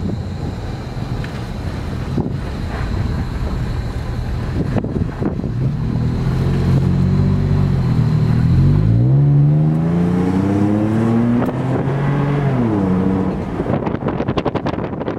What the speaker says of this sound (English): It's got a performance exhaust on it too. It sounds real nice. Not overly loud, but a nice aggressive sound.